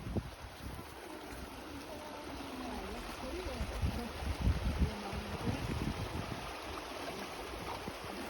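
Small river flowing over stones on a hike, a steady broadband rush of water running close by throughout, with light wind buffeting the microphone.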